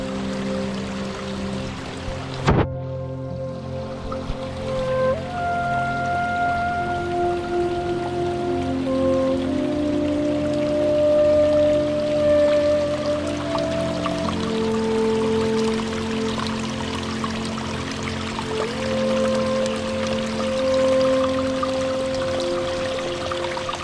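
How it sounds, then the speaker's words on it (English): Steady rushing water of Trafalgar Falls in a Dominica rainforest, a continuous broad roar with a pouring, splashing texture holding evenly for over twenty seconds, with a brief knock near the start and no talking. "all you can hear is the water wave and the trees and the wind"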